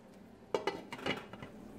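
A spoon mixes tomato sauce in a pan for Greek stuffed eggplants (papoutsakia). After a quiet start, a few soft clinks and scrapes of utensil against pan follow one another up close, with no talking.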